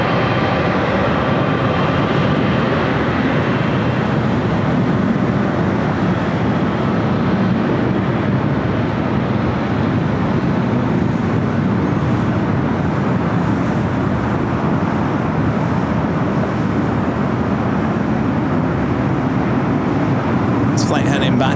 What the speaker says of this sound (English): Flight heading back to London Heathrow, the 777-300ER